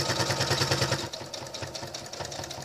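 A sewing machine stitches fabric for an insulated lunch bag with a built-in lining, running in fast, even mechanical bursts close by, its steady rhythm briefly easing as the stitch reverses to backstitch, then continuing.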